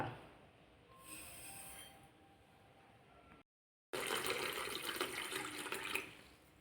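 Water running and swishing as lentils and fenugreek are washed for a medicinal Karkidakam rice porridge; a faint, steady rush that breaks off briefly, then comes back louder and brighter.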